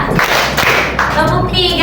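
Children in a classroom clap through a counted clapping game, giving a few sharp, mid-distance claps that blend into overlapping voices and classroom chatter.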